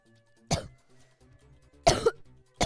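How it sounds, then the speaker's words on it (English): Three sharp coughs from a person playing a rhythm game, spaced unevenly about a second apart over faint game music. "I literally just coughed on every single beat."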